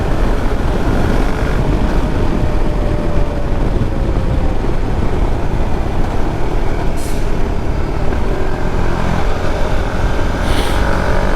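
Motorcycle descending a winding downhill road in Quezon Province under engine braking, a steady loud broadband drone dominated by road and wind noise with faint engine tone throughout.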